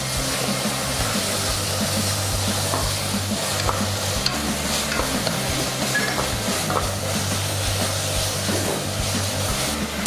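Coriander and mint leaves cooking in a pan for Ambur mutton biryani give a loud, steady sizzle with stirring scrapes running throughout, close and continuous, with no voices.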